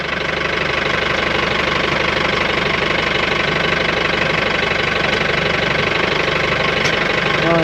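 Mahindra jeep engine running in first gear with four-wheel drive engaged on a hill-station track near Anaikatti, a loud, steady, knocking diesel-like drone that stays constant throughout with no pauses.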